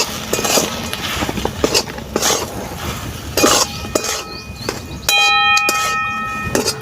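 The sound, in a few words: stirring and frying spiced potatoes in a pan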